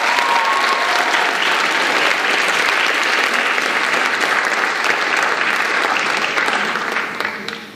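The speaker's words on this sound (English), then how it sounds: "If we could welcome her with applause" Loud, full applause from an awards-show audience welcoming a teacher to the stage, sustained and dense for several seconds before fading slightly at the end.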